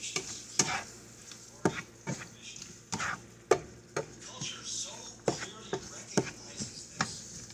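A utensil stirs an egg omelette mixture in a pan over a fire, giving repeated sharp scrapes and taps at an irregular rhythm over a soft sizzle, close and moderately loud.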